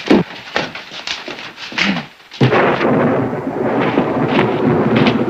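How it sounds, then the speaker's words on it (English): Thunder rumbles and cracks during a storm, several distant booms followed by a loud close clap that rolls into a sustained, heavy rumble. "Wrong time of the year for a storm."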